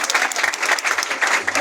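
Applause from a church congregation, dense and steady clapping filling the whole moment at moderate loudness, with no speech over it.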